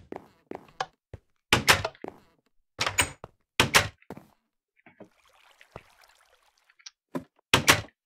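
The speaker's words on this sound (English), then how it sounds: "this moves pistons" Minecraft redstone pistons moving in a video game, heard as a series of short, sharp mechanical thunks and clacks in irregular clusters, with a soft hiss between them.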